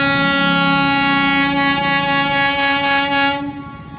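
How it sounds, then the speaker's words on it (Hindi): The Vikramshila passenger train passes close by near a new tunnel at Jamalpur, its loud sustained horn blaring over the rumble of the wheels before fading slightly at the end. "इस समय इधर से एक ट्रेन विक्रमशिला होगा, ये विक्रमशिला ही है"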